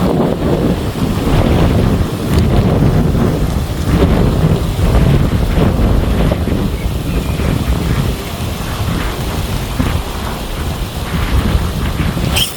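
A strong wind roars across the microphone at a fishing spot, giving loud, continuous buffeting rumble that swells and eases without a break.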